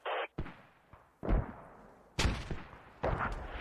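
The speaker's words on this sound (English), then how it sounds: "Enemy sentinels somewhere west firing" Gunfire in a military video game, with several sharp, loud shots and bursts in quick succession, separated by short gaps and some distant booms.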